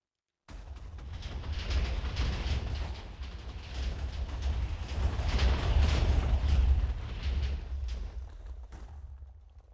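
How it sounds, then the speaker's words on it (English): A deep, rumbling Minecraft missile explosion swells up after a moment of silence, roaring and crackling for several seconds before fading out. "And let's wait for the explosion."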